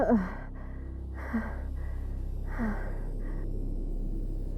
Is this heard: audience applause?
no